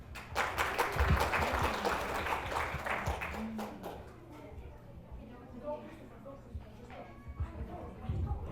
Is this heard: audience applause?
yes